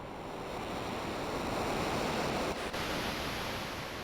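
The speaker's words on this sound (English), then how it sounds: "Waves are loud." Loud ocean waves roar continuously in the video game Chrono Trigger, a thick unbroken surf rush at high volume with a brief dip partway through and no talk.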